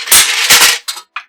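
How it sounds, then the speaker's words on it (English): Several quick metallic clanks and knocks, close by, as small kitchen appliances in the back of a cupboard are shifted and bumped together, ending in a couple of short separate clatters. "That is the sound of all of the small appliances everywhere."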